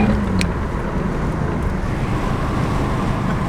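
A car with a blown-up gearbox cruises in fourth gear, giving a steady, muffled road rumble blended with wind noise. No one speaks.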